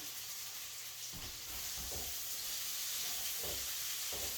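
Potatoes frying in melted butter in a pan, a steady bright sizzle and hiss throughout with soft low bumps and stirring shuffles beneath, fairly quiet and close.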